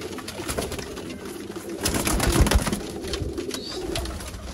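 Iranian Banke pigeons cooing nearby, low soft coos rising and falling over a busy background of rustling and handling noise, with a faint wing flutter.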